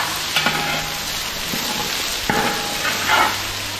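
Crushed garlic and ginger fry in a pan for a tamarind curry, a close, steady sizzle punctuated by a few brief scraping stirs.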